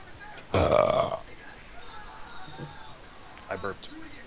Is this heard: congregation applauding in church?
no